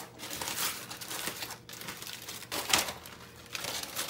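Aluminum foil crinkles and rustles steadily as barbecued meat is unwrapped in a home kitchen, with a brief louder crackle partway through and no talking.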